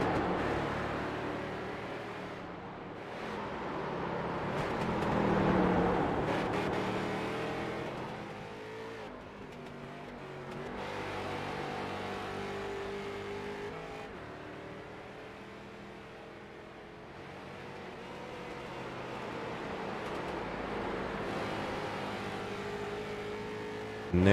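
Street stock race cars cross the finish line at Barber, their engines droning and swelling as they pass at mid distance, with steady revving rising and fading over the long stretch and no talk.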